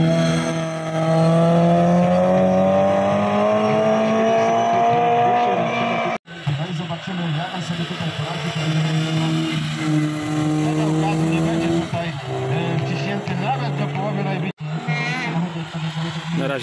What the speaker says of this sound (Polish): Samochody historyczne.